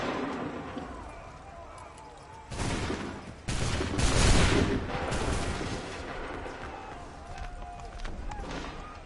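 Musket volley firing from the video game Assassin's Creed 3 erupts as a loud, dense burst of gunfire in the middle, with a few scattered shots after, over a busy battlefield background and faint voices.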